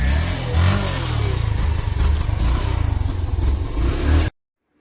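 Motorcycles riding off to a village temple festival, a loud close engine drone with revving and rattling clatter that runs steadily, then cuts off abruptly near the end.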